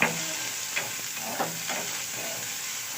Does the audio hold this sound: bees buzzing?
no